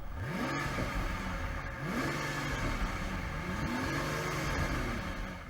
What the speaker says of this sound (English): let's just have a listen to these cars' V12 engines